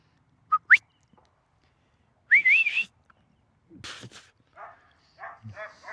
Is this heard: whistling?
yes